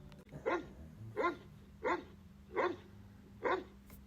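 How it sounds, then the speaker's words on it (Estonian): A large, worried dog on a neighbour's balcony barks five sharp, evenly spaced times, each bark short and clear against a quiet background, with no speech. "Järsku kostis terav haukumine."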